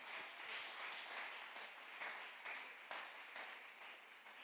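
A church congregation applauds loudly and steadily throughout, a dense wash of clapping with a few louder individual claps standing out.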